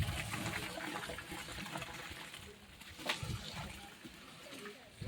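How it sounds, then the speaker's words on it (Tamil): Rice grains being tipped into a large pot of rolling boiling water while cooking a big batch of chicken biryani, giving a close, broadband watery rush and splash that swells briefly midway. "இப்போ நம்ம அரிசியை கொட்டிடலாம்."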